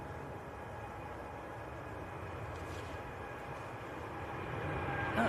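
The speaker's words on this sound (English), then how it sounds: "Norse Dreamliner, which is just starting to roll. So this is a positioning flight, hence it's rotating very early." Norse Dreamliner jet on a positioning flight starting its take-off roll at Manchester Airport, a distant, low rumbling roar that gradually builds in loudness.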